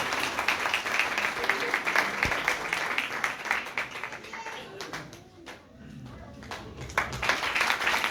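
A church congregation at a Sunday service claps, a mix of many hands that thins and softens briefly midway before swelling back to full, busy applause.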